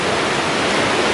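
A river rushes along the Superior Hiking Trail in fall, a steady, loud broadband roar of flowing water that stays constant and close throughout, with no other sounds.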